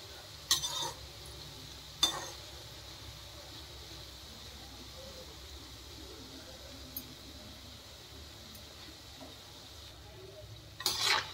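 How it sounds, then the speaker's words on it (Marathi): Khari and namkeen snacks frying in oil, a quiet steady sizzle with a few brief clinks and scrapes of a utensil near the start and at the end. "याला पण तसंच शेकून तळून घेऊया."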